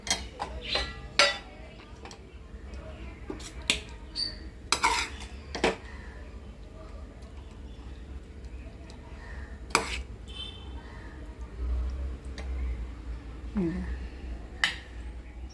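Potato and pea sabzi being served onto a plate, with scattered clinks and scrapes of a spoon against dishes and pans, close and fairly quiet, no talking.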